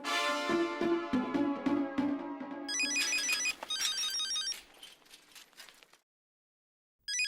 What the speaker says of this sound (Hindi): हाँ तो अब्दुल से बात कर लेते ना, फोन लगाओ कोई।